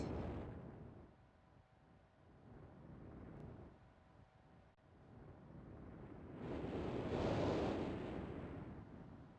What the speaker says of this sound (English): First sound is going to be water.